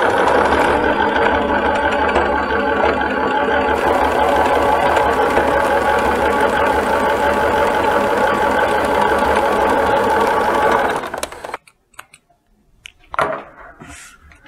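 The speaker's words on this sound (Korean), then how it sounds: "지금 노루발 끝을 천의 끝과 맞게끔 놓고 박아줍니다" Sewing machine stitching fabric for a pair of shorts, running as a steady continuous mechanical hum for about eleven seconds before stopping, followed by quiet handling.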